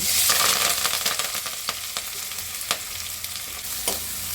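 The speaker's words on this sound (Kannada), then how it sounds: "ಸಾಸಿವೆ ಚಿಟಾಪಟ ಅಂತು ಈರುಳ್ಳಿ ಹಾಕ್ಕೊಳ್ಳೋಣ" Onion frying in hot oil with mustard seeds, a loud close sizzle with scattered sharp pops and crackles from the spluttering seeds, no speech.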